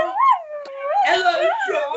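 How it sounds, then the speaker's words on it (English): A dog howls and whimpers up close, rising and falling in long wavering cries broken by a short gap, loud and clear, with a voice or two mixed in near the end. "Here's my dog."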